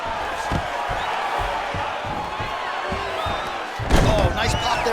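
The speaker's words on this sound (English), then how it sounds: "nice pop there from the crowd as he finally gets the takedown" Arena crowd at a UFC 280 fight hums steadily, then surges into a loud burst of cheering near the end as a fighter scores a takedown.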